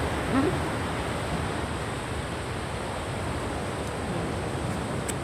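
Rain falling at the seaside, a steady broad hiss of downpour mixed with the surf, even and moderately loud throughout, without speech.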